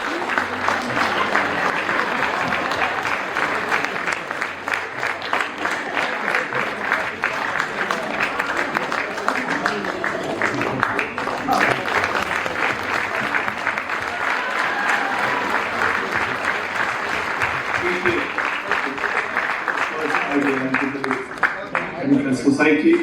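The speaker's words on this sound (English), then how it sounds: "So give him a great round of applause" Sustained, dense applause fills a hall at an analytical science conference award ceremony, with a large audience clapping continuously for over twenty seconds and faint voices mixed in.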